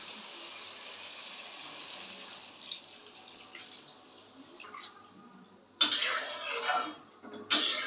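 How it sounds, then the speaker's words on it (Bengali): Water poured into a pan of simmering greens with potato, pointed gourd and prawns, heard as two short loud splashing bursts over a faint steady kitchen background. "এবার জল দিয়ে দে।"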